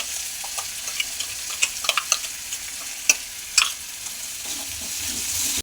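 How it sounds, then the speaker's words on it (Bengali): Grated chicken and onion fry in oil with a steady crackling sizzle, punctuated by scraping stirs and light clinks of a utensil against the pan, close and without talk. "ওর মধ্যে এবার আমি গ্রেট করা চিকেন আর পেঁয়াজটাকে দিয়ে দেবো।"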